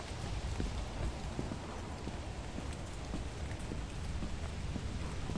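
Rain weather in the game Lethal Company, a steady hiss of rainfall with scattered drops pattering on surfaces, continuous and fairly soft, with no talking.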